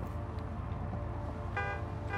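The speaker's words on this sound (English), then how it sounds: "Honk honk." A car horn honks in Just Cause 3, a short harmonic blare rising near the end over steady engine and game background noise, no speech.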